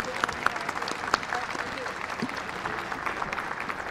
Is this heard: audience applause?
yes